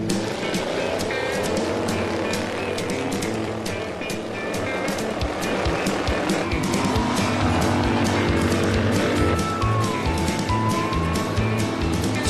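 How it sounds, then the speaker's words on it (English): Swamp buggy racing on the outskirts of the Florida Everglades, with loud, continuous engine roar and splashing mud throughout, steady and close with no clear gaps. "Swamp buggy racing."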